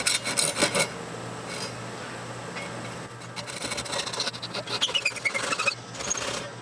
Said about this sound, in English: So first I like to use a saw on the cross cut and just cut this.